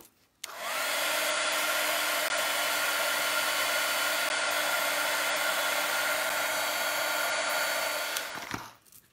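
A hair dryer blows on fresh paint in a mixed-media craft setup, switching on with a click and then holding a loud, steady whooshing hum for about eight seconds before cutting off.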